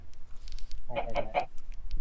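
A Minecraft chicken gives three quick clucks in a row, clear and close, over a low background hum.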